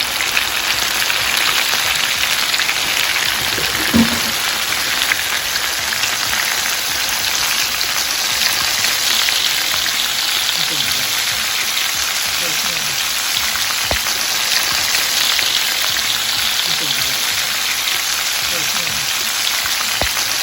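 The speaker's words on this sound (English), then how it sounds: "Now you want to start dropping them in the grease." Battered butterfly shrimp frying in hot grease, a steady dense crackle and hiss that holds evenly throughout, with a few brief clicks and pops rising above the continuous bubbling.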